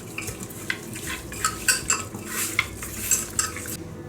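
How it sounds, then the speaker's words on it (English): Moist squishing and light clinks as food with fresh curry leaves is mixed by hand in a bowl, a series of soft irregular strokes, close and fairly quiet. "Now I'll mix it nicely with hands."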